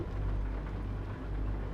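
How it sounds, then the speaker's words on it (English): Steady rain falling around a logging truck on a trucking run in Montana or Idaho, a dense continuous wash with a low rumble beneath, fairly quiet and even throughout. "Starts raining again."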